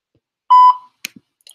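A single clear electronic voicemail beep sounds loud and close, a short steady tone lasting about a quarter second, followed by a couple of faint clicks in otherwise near silence.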